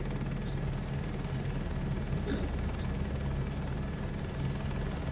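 Helicopter rotor and engine drone from a crop-dusting spray mission in Microsoft Flight Simulator 2024, a steady low continuous hum throughout with a couple of faint high clicks over it.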